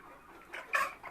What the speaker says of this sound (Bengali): এটা সুপার হাইব্রিড জাতের মুরগি।